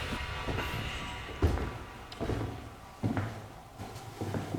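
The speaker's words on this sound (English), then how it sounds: "I heard you knock." Sharp knocks on wood inside a reputedly haunted old hotel in Goldfield, four separate raps spaced about a second apart, muffled and moderately close in a quiet room.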